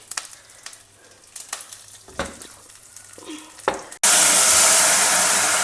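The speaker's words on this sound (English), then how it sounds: "Add mustard seeds, jeera, 1 dry red chilli, a little bit of hing, a few curry leaves," Mustard seeds, cumin, a dry red chilli, hing and curry leaves tempering in hot oil in a kadai: crackling pops and stirring at first, then a sudden loud, steady burst of sizzling hiss.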